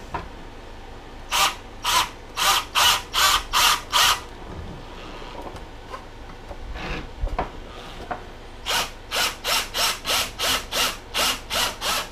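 Power drill boring a bolt hole for a kayak trolling motor mount, whirring in two bursts of short repeated pulses, a cluster of about seven then a longer run of about ten, loud and close with quiet gaps between.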